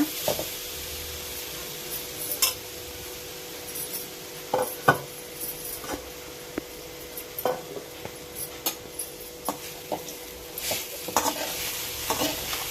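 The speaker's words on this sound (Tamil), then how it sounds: "கடாயை சிம்மில் வச்சு, கேஸ் சிம்மில் வச்சுட்டு தேங்காயை வதக்குங்க." Ground coconut stirred in a kadai over a low gas flame for a village-style kolukattai, a soft steady sizzle under repeated scrapes and clinks of a spoon against the pan, close by with no talk.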